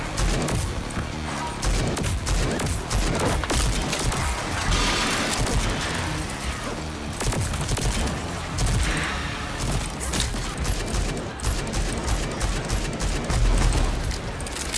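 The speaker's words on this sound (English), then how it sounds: "Oh, those are some grenades and rockets." Grenades and rockets burst in the shooter Rage 2 amid continuous heavy combat, dense overlapping explosions and gunfire pounding loud and close throughout with no pause.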